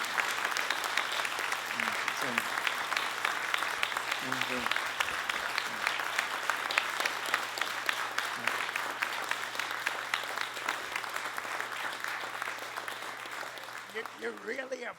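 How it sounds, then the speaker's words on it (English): Sustained audience applause at a 75th anniversary D-Day celebration honoring three veterans, dense clapping from a large crowd holding steady throughout, with a few faint voices breaking through near the end. "One more round of applause for our three heroes here"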